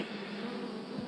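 Several bees buzzing together in a continuous, steady drone, close and even in level throughout, with no voices.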